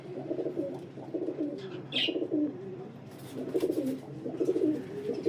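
Pigeons of a high-quality flying breed coo in repeated low, throaty bursts, several calls rolling one after another at close range, with a brief higher chirp midway and no talk.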